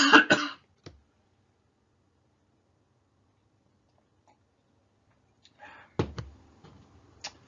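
A person coughs in a quiet room, a short burst of several rough coughs at the start, then silence, then a throat-clearing rasp and two more sharp coughs near the end, close and fairly faint.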